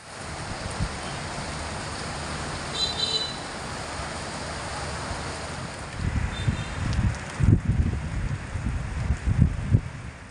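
Cool wind blowing outdoors just before rain, a steady airy rush with gusts and rustling that grow louder and buffet the microphone toward the end.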